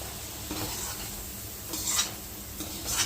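Prawns crackling in hot oil with a low steady sizzle, broken by a few scraping stirs of a utensil against the pan.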